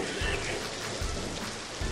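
Rain falls steadily outside, a soft continuous patter that stays faint and even throughout with no voices.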